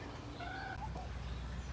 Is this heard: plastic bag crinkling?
no